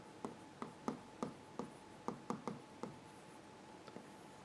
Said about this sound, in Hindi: अगर मैं इधर एक बार को ओवरलोडिंग लिख लूँ